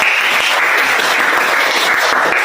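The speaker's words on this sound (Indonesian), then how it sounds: "Tepuk tangan dulu buat kita semua." A school class claps together in steady, dense applause, loud and close, with no voices over it.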